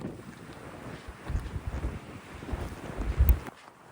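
Wind gusts across the microphone on a desert trail along a dry wash, a low, uneven buffeting rush that swells in bursts and fades, with no talking.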